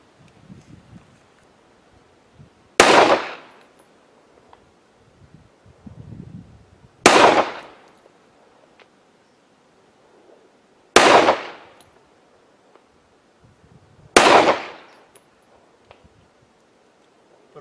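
A large 1911 pistol fires four loud, sharp gunshots at even intervals of about four seconds, each with a brief ringing tail, against quiet outdoor wind and rustling between shots.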